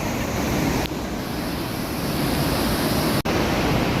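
A mountain river rushes steadily and loudly throughout, a broad constant wash like a fast river close by, with no voices.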